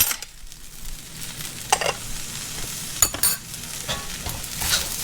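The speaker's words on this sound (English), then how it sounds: "your frozen peas will cook as you stir the rice" Shrimp fried rice with frozen peas is stir-fried in a hot pan, a steady sizzle broken by intermittent scraping and tossing of a spatula, close and moderately loud.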